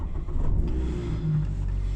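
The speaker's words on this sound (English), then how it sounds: "Dip the clutch, start it." A Mazda MX-5 RF 2.0 petrol engine catches and settles into a steady low rumble, close by and continuous, with a slight rise in revs partway through.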